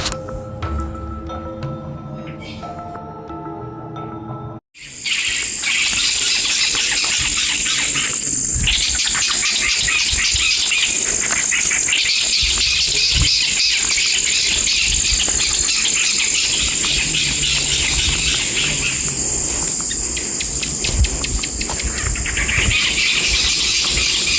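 Near a pond below Chandragiri fort hill, a dense, shrill drone of crickets and insects fills the air, with scattered bird calls and chirps mixed in. The sound is quieter and different at first, then becomes a loud, continuous chorus after a short cut.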